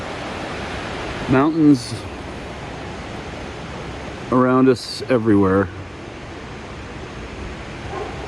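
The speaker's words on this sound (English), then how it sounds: "Squamish River right there, little waterfalls, like right there." The Squamish River with little waterfalls rushing nearby at a free campsite in British Columbia, a steady broad roar filling the whole stretch while someone talks briefly over it.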